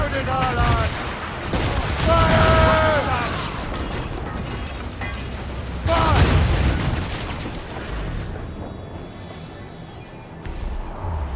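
Ship cannons fire in heavy booming volleys during a naval battle in Assassin's Creed Rogue, with crew voices shouting over the blasts.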